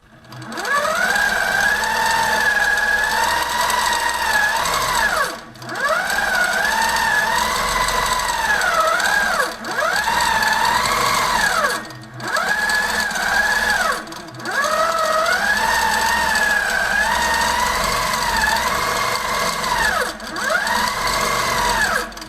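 A Handi Quilter quilting machine stitching steadily with a whirring, rising and falling mechanical hum in long runs, briefly pausing a few times between passes, loud and close with no talk.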